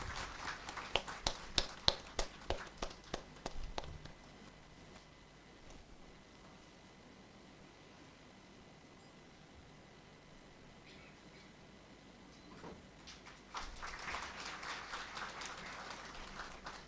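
Applause from a conference audience after a call to honour a professor: sharp claps at the start fading into a quiet hall, then a fresh burst of clapping near the end.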